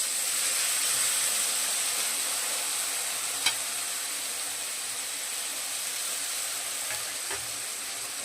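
Steady sizzling hiss from a hot cooking pan after a little water is added to a Bengali rice and coriander dish, continuous and fairly close, with a few faint clicks and no talking.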